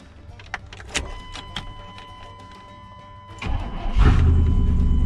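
A Chevrolet Blazer, recently driven through water, cranks and fires up: clicks and brief starter noise, then the engine catches and settles into a loud, steady idle rumble near the mic, with no one talking.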